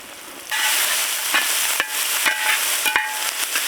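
Chopped vegetables, including elephant foot yam and raw plantain with ground ginger, garlic and green chilli, roast in hot oil for a sheep offal curry, a steady loud sizzle broken by several sharp stirring scrapes.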